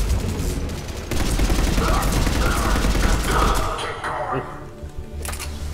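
Pistol gunfire in the video game Mass Effect 3: a dense run of sharp shots and cracks over a busy combat backdrop, easing off near the end, with voices talking throughout.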